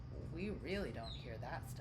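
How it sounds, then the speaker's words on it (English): Floyd, a pet bird in his cage, chirps in quick rising and falling tweets in a room while a person talks over the calls. "We've got Floyd over here making noise in his bird cage."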